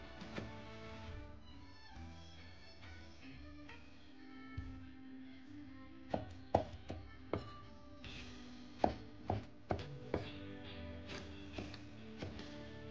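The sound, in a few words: knife chopping eggplant into even strips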